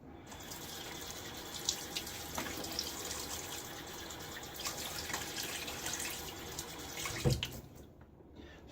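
Faucet water running steadily into a sink while a razor is rinsed after a shave, a constant splashing stream with small clinks and drips, quiet and close, then cutting off near the end.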